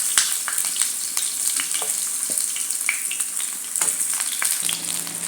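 Eggplant fries in a little oil in a pan, a continuous close crackling sizzle with scattered pops and spatters, and a low hum entering near the end.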